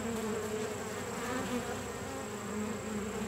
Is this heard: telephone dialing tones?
no